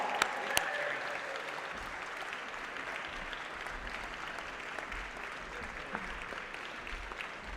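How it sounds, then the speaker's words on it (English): Sustained audience applause at a recognition ceremony as a team is invited on stage, even and moderately distant, with a few sharper claps standing out near the start. "Yes, a big hand of applause."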